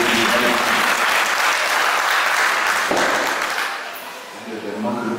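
A church congregation applauds loudly and steadily to acclaim the Lord, a dense wash of clapping that thins briefly near the end before picking up again, with voices mixed in.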